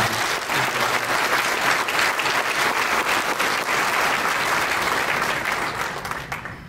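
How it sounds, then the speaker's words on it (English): An audience applauds at the Fruitport Hall of Fame ceremony: steady, dense clapping from a large crowd that holds loud and even throughout, then thins out at the very end. "How about a round of applause for my mom?"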